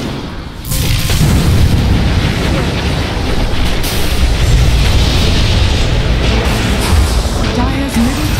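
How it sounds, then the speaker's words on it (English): Continuous loud rumbling battle noise with booming impacts during a Dota 2 match as Dire's middle tower is attacked, dense and sustained throughout with a brief quieter moment at the start. "Dire's middle tower is under attack."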